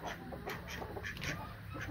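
Ducks quack on a farm, a soft, continuous murmur of calls mixed with background farmyard noise and no clear single voices.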